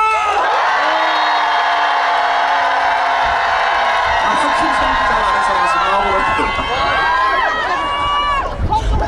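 A large outdoor summer concert crowd in Seongju cheers and whoops loudly and continuously, with an amplified voice carrying over the noise.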